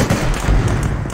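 A single frag grenade blast in the military shooter Arma 3, a short broad low-heavy boom lasting about a second, loud and close.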